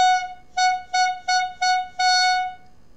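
Beginner band clarinets playing exercise number 11 together: a short opening note followed by a run of repeated detached notes on one pitch and a longer final held note, clear and fairly loud with no talking.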